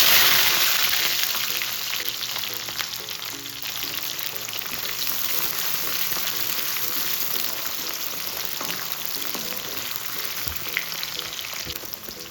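Small onions hiss and crackle steadily in hot sesame oil, a dense continuous frying sizzle heard up close.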